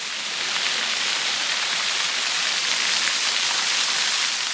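A steady, dense rush of falling water fills the whole stretch, constant and fairly loud with no breaks.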